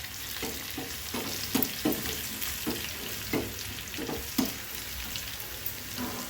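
Tempering sizzling in a pan with a pinch of asafoetida added while cooking tomato dal, a steady crackling fry broken by a string of soft stirring scrapes and taps, close and moderately loud with no talk.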